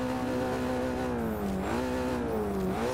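A Mercedes A 45 AMG roars in the Forza Horizon 2 racing game, its engine note rising and dipping through revs in a steady, loud, close drone with no talk.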